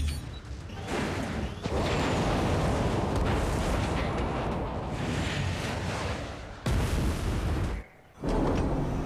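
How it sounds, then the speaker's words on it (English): A nuke launching in Call of Duty Mobile brings a sustained, roaring explosive rumble that swells and holds for several seconds, broken by brief dropouts before the roar returns. "The nuke is launching."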